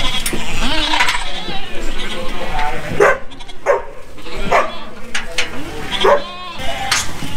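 A farm dog barks in short repeated bursts on a sheep-shearing farm in Orkney, Scotland, mixed with bleating sheep and loud background activity, with voices talking nearby.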